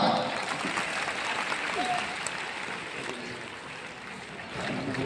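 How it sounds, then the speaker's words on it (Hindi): An audience in an auditorium in Patna applauding after a yoga talk, a sustained wash of clapping that carries on throughout with a slight dip midway before swelling again. "एक बार जोरदार तालियां।"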